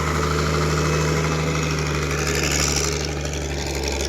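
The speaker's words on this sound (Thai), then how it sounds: "พอดีช่วยขับรถบดด้วยนะครับ" A road roller's engine idles steadily and loudly at close range, a constant low mechanical drone with vibration and no breaks throughout.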